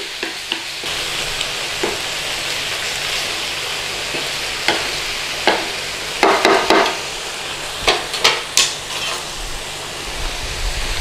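Beef mince and onion frying in a pan, a continuous close sizzle broken by scattered stirring clacks and scrapes of a utensil against the pan, with no voices.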